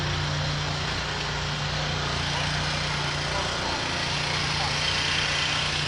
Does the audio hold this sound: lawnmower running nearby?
yes